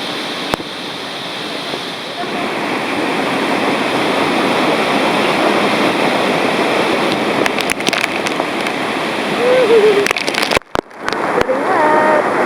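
Roar of the Pailón del Diablo waterfall in Ecuador from a viewpoint inside the falls: a steady, loud, broadband wash of falling water throughout, with faint voices briefly audible near the end.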